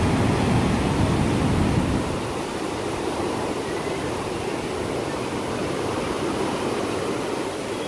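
Surf at Dreamland Beach in Bali, a broad continuous roar of breaking waves, heavier and louder for the first couple of seconds, then settling into a steady wash.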